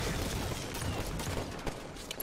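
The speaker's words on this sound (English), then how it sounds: "Plasma pistol time." Plasma pistol fire in the video game Halo, dense rapid bursts of weapon shots in a busy gunfight mix, continuous and fairly loud with a few sharper cracks toward the end.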